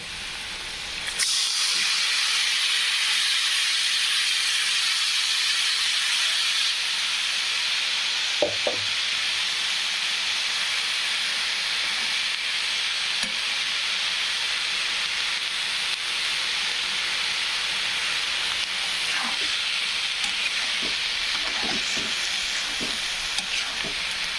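Sprouted bean usal hisses and sizzles loudly as it hits a hot pan, then fries steadily while occasional soft scrapes of stirring come through.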